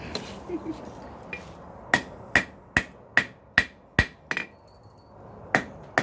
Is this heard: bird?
no